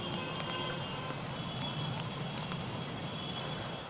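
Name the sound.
heavy monsoon rain falling in Mumbai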